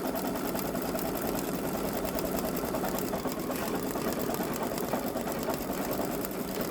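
A Babylock Solaris embroidery machine stitches a colour in a continuous, fast mechanical whir with a fine rapid rattle, steady and close, with no voices.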